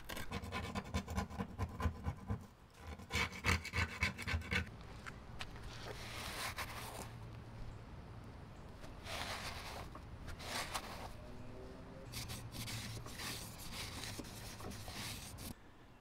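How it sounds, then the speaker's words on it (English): Hand scraping of paint and rust from a car's metal body panel: rapid rhythmic rasping strokes, then slower intermittent scrapes, close and fairly quiet with no talk. "Now I'm just going to work on scraping all the paint and rust off"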